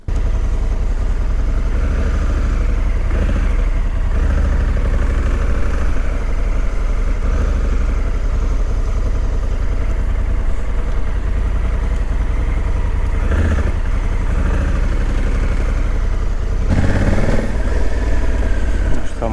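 Motorcycle prepared for a road trip to Cappadocia, its engine idling steadily and close by for the whole stretch, with a low continuous rumble, a brief bump in level near the end and faint voices in the background.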